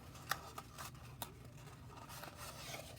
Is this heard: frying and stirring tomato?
no